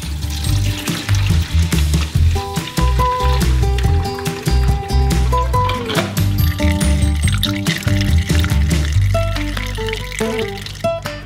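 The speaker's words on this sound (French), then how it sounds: "Vous pouvez le verser sur le tamis dans le seau." Orange juice poured through a sieve into a bucket, a loud, continuous liquid rush with splashing and clinking under music.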